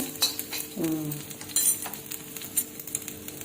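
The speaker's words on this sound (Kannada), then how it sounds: "ಸ್ವಲ್ಪ ಫ್ರೈ ಮಾಡ್ಕೊಳ್ಳಿ" Masala chana dal being stirred and fried in a pan, with a soft sizzle under scraping and clinking of a utensil against the metal, close and moderately quiet, no talking.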